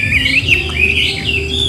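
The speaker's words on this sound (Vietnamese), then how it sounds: "những con chim nó hót tốt như này" A wild-caught laughingthrush sings loud and close, with clear whistled phrases that rise and fall in quick succession.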